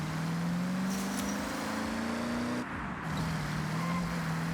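A 1957 Ford Thunderbird in Forza Horizon driving over bumpy ground, a steady low engine drone with rising pitch, a brief dip as the car jolts, then the engine settles back at a lower note.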